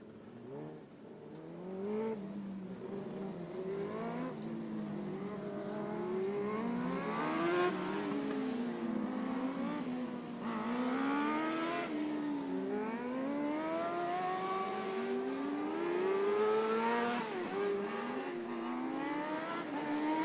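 Race car engine at a speedway during a troubled hot lap session, a droning note rising and falling through repeated gear changes and revs, distant at first and growing louder, then easing off, with no talk.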